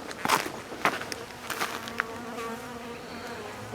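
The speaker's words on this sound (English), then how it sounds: "Oh man, look at all these bees." Bees swarm and buzz outdoors along a pipe, a dense continuous hum with individual insects zipping close past in sharp, louder passes, with no talking.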